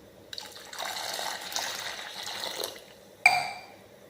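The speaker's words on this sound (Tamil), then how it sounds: "இப்போது இதில் கொஞ்சம் தண்ணி ஊற்றிக்கலாம்" Water pours from a vessel into a mashed mixture for garlic kuzhambu, a short trickling fill that runs quietly for a few seconds, then ends with a brief louder splash.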